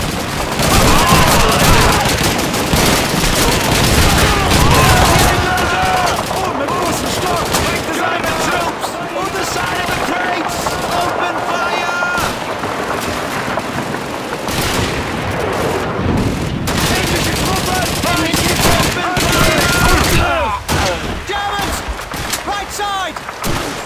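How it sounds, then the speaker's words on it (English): MG-42 machine gun fire in the World War II shooter Call of Duty 2, sustained rapid bursts mixed with other gunfire and explosions, dense and loud throughout with shouted voices over the battle. "It's an MG-42!"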